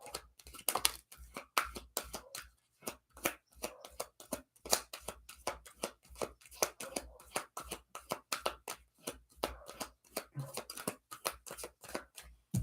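Oracle cards being shuffled by hand, a rapid irregular run of crisp riffles and taps close to the microphone, with no voices.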